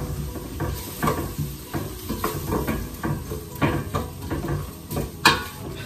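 A spoon stirs a cinnamon-spiced mixture for a quince and prune tagine in a bowl, giving steady scraping and knocking strokes close by, with a louder clack near the end.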